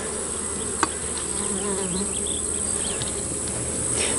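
A honeybee colony in a hive drones with a dense, continuous buzz close by, steady throughout with one small tap near the start.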